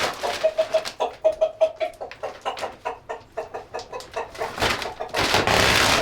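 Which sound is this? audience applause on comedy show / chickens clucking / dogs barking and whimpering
chickens clucking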